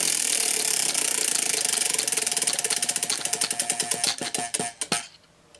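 A TBR prize wheel spins with a loud rapid clatter of clicks that slows steadily, the ticks spacing out into separate snaps before it stops near the end.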